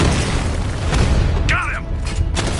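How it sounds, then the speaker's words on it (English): A controlled bomb blast set off with a power winch in Batman Arkham Knight, a loud, continuous booming rumble mixed with mechanical noise, with a short electronic tone partway through. "I can use the power winch to trigger a controlled explosion"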